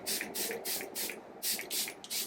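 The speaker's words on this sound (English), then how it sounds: "we're gonna hit it with Charlotte Tilbury Airbrush Flawless Setting Spray" Charlotte Tilbury Airbrush Flawless Setting Spray mists onto a face in about eight quick, evenly spaced pump bursts, each a crisp close hiss with brief silences between.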